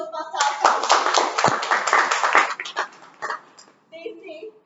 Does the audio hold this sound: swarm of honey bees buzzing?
no